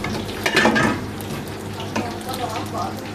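Wide rice noodles and pork stir-fried in a pan, with a steady close sizzle and the scrape and clatter of a spatula against metal, briefly louder early on.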